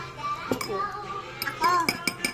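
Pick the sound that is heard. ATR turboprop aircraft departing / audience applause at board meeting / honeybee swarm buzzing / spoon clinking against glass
spoon clinking against glass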